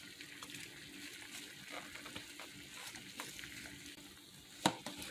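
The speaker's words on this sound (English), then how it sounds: "I'm just going to add in the shrimp" Shrimp stirred into a butter sauce in a pan give a soft, faint sizzle with gentle scraping and stirring, ending in one sharp click near the close.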